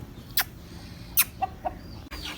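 Aseel hen clucking before vaccination, a few sharp, separate clucks close by with short gaps between them, over a quiet farmyard background and a brief knock near the end.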